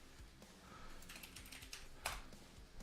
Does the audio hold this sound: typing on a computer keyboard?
yes